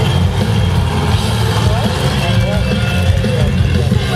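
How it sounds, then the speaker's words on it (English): A 1500 hp alcohol-fuelled supercharged Chevy V8 monster truck engine roars in a deep, loud, sustained drone, with a voice talking over it. "So that's what 1500 brake horsepower of alcohol running supercharged American V8 sounds like"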